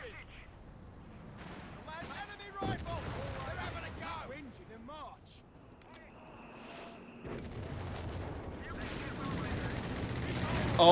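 Gunfire and explosions from a strafing run in Company of Heroes 3, a rumbling barrage of bursts and booms that swells and fades, mixed with game voices and talking over it.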